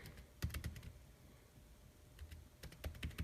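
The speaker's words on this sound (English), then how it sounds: "So to do that, we just have to type device tree." Command typed on a computer keyboard during an iPhone 5 SSH ramdisk session, two short bursts of quick, faint key clicks separated by a quiet pause.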